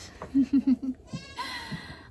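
Goats on a farm give a short run of four quick bleats close by, followed by softer rustling and a higher, drawn-out bleat further off.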